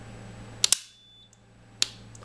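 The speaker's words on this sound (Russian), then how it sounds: "Автомат мгновенно отключился." A B-curve automatic circuit breaker trips instantly under a test current of about 50 amps. It gives a sharp double mechanical click, and a single lighter click follows about a second later, against a quiet background.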